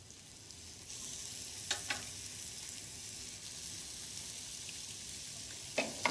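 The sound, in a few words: beef burgers sizzling in oil in a frying pan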